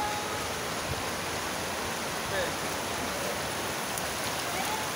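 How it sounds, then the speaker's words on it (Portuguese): Floodwater runs through a flooded street with a constant, even rushing hiss, a broad wash of moving water that stays steady throughout and shows no clear voices. "O bar de Moisés entrou água."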